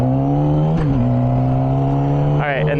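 A motorcycle engine revs hard close by, a loud sustained roar with a steady low drone and a rising surge of pitch near the end.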